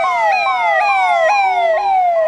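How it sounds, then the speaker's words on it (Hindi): An ambulance siren wails close and loud as the vehicle pushes through a dense crowd at a riverside bathing festival, its rising and falling tone repeating steadily with no talk over it. "देखिए हमारे पीछे से एम्बुलेंस जा रही"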